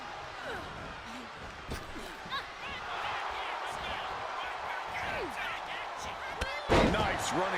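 Wrestling action in WWE 2K25 during a match, with several sharp thuds of bodies hitting the mat, the loudest impact near the end, under a steady arena crowd roar and ongoing commentary.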